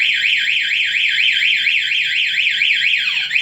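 A Kawasaki ER6N motorcycle's plug-in anti-theft alarm wails continuously and loudly, a rapid rising-and-falling siren that cycles steadily before dipping and cutting off at the end.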